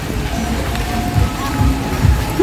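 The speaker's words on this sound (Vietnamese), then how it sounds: "Trời mưa rồi mọi người ơi." Steady rain falls outdoors as a continuous, fairly loud wash of noise, with a low rumble and faint voices underneath.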